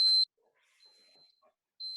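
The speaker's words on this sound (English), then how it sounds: "Oh, that's my alarm." A kitchen alarm gives loud, piercing electronic beeps: one at the start and another after a short quiet gap, with a faint, thin tone lingering between them.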